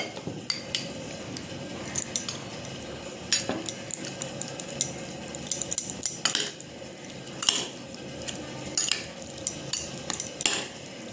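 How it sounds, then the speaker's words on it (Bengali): Fish fat being mixed with salt and ginger garlic paste in a bowl, with repeated light clinks and scrapes of a spoon against the dish in an uneven rhythm, close and fairly quiet. "মাছের তেলটা আমি ভালো করে মাখিয়ে রেখেছি"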